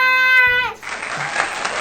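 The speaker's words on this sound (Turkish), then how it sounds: "Alkışlar, alkışlar." Applause sound effect in a home dance vlog, a loud burst of crowd clapping that cuts in right after a held musical tone and continues as a steady wash.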